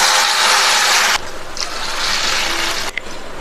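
Water poured into a cooking pan of roasted semolina for upma, a steady rushing splash that runs for about a second, pauses briefly, then flows again for over a second before stopping.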